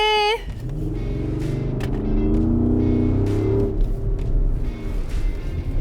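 A Porsche Cayenne Coupe S with a V8 engine driving on a race track gives a loud, steady engine drone that rumbles on without a break, with no talking over it.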